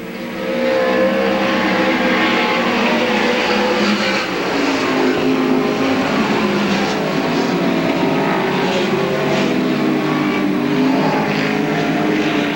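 Midget race cars roar past the grandstand at the 1990 Belleville Midget Nationals, a loud, continuous engine drone with overlapping cars and no break in the noise.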